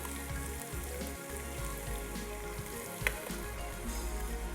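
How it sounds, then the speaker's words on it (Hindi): Chicken frying in a pan for qeema matar, giving a dense continuous sizzle with a rain-like crackle close by, a single utensil tap midway and no talking. "अब इसके बाद इसमें हम शामिल कर देंगे चिकन। चिकन को अच्छे तरीके से भूनना है।"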